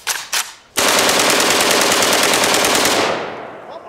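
An AK-47 fires on full auto at a lawn mower outdoors. Two short bursts open the sequence, then one long, loud, continuous burst of rapid shots follows and gradually fades out.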